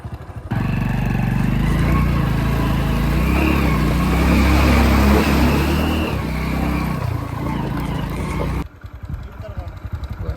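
A vehicle engine roars loud and close as it is driven out through water near a sugarcane field, holding a steady heavy drone for about eight seconds before cutting off abruptly.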